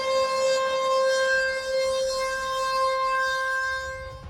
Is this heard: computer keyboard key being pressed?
no